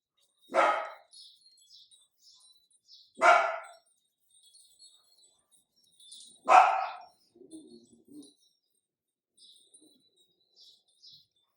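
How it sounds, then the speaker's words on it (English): A dog barks three times in sharp, loud single barks spaced a few seconds apart, with a softer muffled sound after the third, while faint bird chirps sound in the background. "I don't know why Bogey chooses to bark as soon as I start doing the class"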